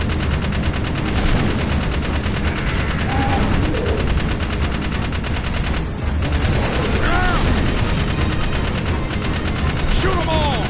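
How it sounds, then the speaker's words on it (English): Sustained rapid gunfire from a weapon in the video game Jak 3, a dense machine-gun stream that runs without pause and stays loud and close, with brief chirping effects and a voice breaking in now and then. "Shoot them all!"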